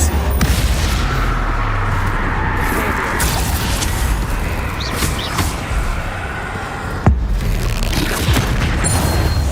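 A Bombarda spell blast in the video game Hogwarts Legacy, heard as a loud, continuous booming roar with heavy low rumble that keeps going for several seconds, with a few sharper hits along the way.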